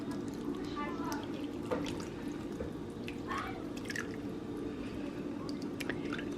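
Sauce poured and drizzled over Amish-style chicken roll-up bundles, a soft wet dripping and squishing close by over a steady low background hum.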